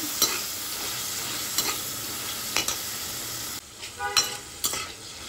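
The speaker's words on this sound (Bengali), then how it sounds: "ছানাটা দিয়েও ভালোভাবে নাড়িয়ে নিচ্ছি" Chhana is stirred in a frying pan over a low flame, with soft sizzling throughout and several distinct scraping strokes of the spatula at irregular intervals, close by and without speech.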